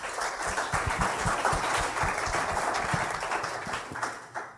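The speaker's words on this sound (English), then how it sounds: "So please give them a round of applause." An audience claps at a panel discussion on site-level and supply-side work, steady dense applause that carries loud and close throughout, with no talk over it.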